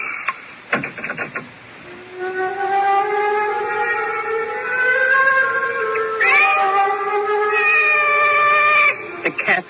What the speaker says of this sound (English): The cat's awake.